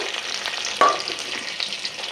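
Chicken for chili chicken frying in a pan gives a steady, moderately loud sizzle throughout, with one sharp stirring scrape partway through and no talking.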